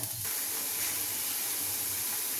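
Potato fry sizzling steadily in a hot pan, a continuous loud hiss and crackle without pause, no talking.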